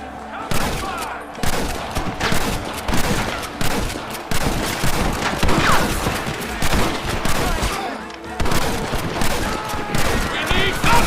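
Dense volleys of gunfire fill a Red Dead Redemption gunfight, rapid overlapping shots and bursts crackling almost continuously with brief lulls, loud and close, with shouted voices mixed in.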